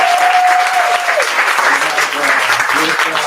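Sustained audience applause at a women's cannabis business event, a thick, loud wash of clapping from a crowd that continues throughout, with faint voices and a brief tone mixed underneath.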